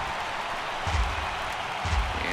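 A sparse ballpark crowd in the video game MLB The Show 18 applauds a strikeout with a soft, even patter of clapping, faint and distant, with low thumps rising twice beneath it.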